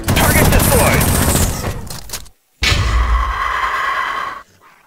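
Video game gunfire in X-Mercs, loud close bursts of shots cut by a brief silence, then another sustained volley that stops abruptly.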